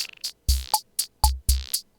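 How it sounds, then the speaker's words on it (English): A vintage-style rhythm machine pattern from the Bucket Pops VST plugin plays crisp, dry electronic kicks, snappy hits and short clicks in a steady looping beat, with gaps between the hits and no voices. "it's like an old rhythm machine"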